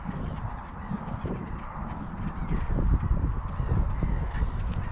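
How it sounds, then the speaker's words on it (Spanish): A flock of birds in a park gives repeated honking calls, loud and fairly near, over a continuous outdoor rumble that swells toward the middle, with no talking. "Aquí vamos a ver ahora estos pájaros volando."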